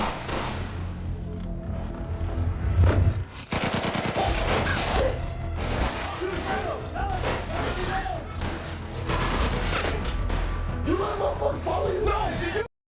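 Gunfire in a crime film shootout, with dense rapid shots and bursts over a loud, busy action soundtrack, along with shouts and yells that run nearly the whole time.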